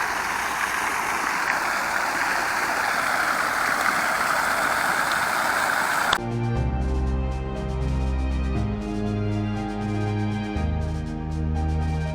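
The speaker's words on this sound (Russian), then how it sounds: "Очень красивый фонтан." A fountain beside an alley splashes in a loud, steady rush of falling water that cuts off abruptly halfway through, replaced by a different tonal droning sound.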